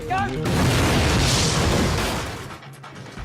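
A stunt explosion goes off at an armoured van for a TV series, a loud sustained boom and roaring blast that swells and then fades, with a brief voice at the start.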